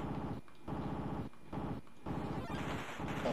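Rapid gunfire from the NES shooting game Dynamite Duke plays as a dense stream of crunchy chiptune shots in repeated bursts with brief pauses, no music behind it.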